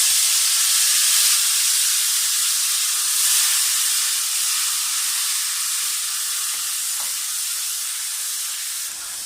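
Two medium-sized tomatoes hit hot oil and spices and set off a loud, close, continuous sizzle, a dense hiss that holds strong throughout and eases slightly toward the end, with no talking.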